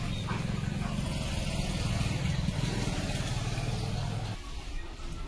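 A tractor engine runs at a farm as rain comes on, a steady low rumble close by that holds for several seconds before dropping back near the end.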